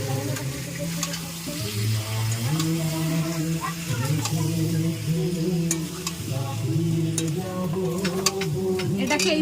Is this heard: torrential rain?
no